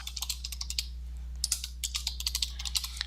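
Typing on a computer keyboard: quick clusters of light, close key clicks with a short pause midway, over a low steady hum.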